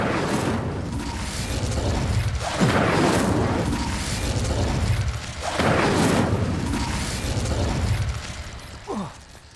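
Incendio fire spell cast in Hogwarts Legacy, a series of whooshing fiery bursts and booms with rumbling, crackling mechanical undertones, repeated several times in loud waves.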